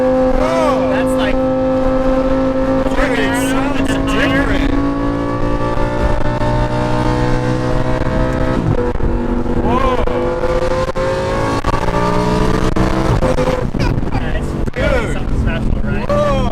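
A Lamborghini Huracan LP610-4 V10 engine revs loudly and steadily, with rising and falling pitch sweeps as it is blipped through downshifts. A voice talks over the engine throughout.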